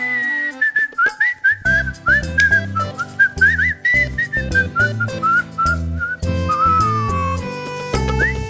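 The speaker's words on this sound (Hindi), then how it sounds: "ये हमारे घर में स्वीटी सी सीटी कौन बजा रहा?" Someone whistles a clear, wavering melody inside a house, the bright tune running for several seconds over music and household sounds, with a short pause before it resumes near the end.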